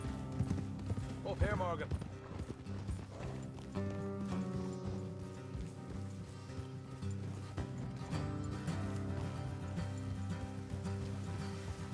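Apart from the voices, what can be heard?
horses' hooves galloping, from video game Red Dead Redemption 2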